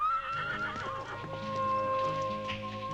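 At a riding club a horse gives a clear, drawn-out whinny with hoof clip-clops under it, close and moderately loud against soft background music.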